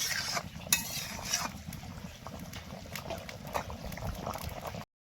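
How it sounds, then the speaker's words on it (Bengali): Desi chicken jhul broth at a rolling boil in a village-style pot, a continuous low bubbling and gurgling, quiet and close, steady for about five seconds before cutting off, with no voices. "মাংসর জল ফুটে গেছে"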